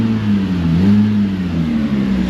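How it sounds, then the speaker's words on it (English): Low, rumbling exhaust note from an idling engine, steady with slight wavering pitch, heard close up without talk. "But you can hear the exhaust."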